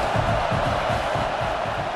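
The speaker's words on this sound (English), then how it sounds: "this crowd is turning it up a notch" A stadium crowd in the College Football 26 video game roars steadily, a dense, loud wall of cheering that swells without pause during a USF vs Florida simulated matchup.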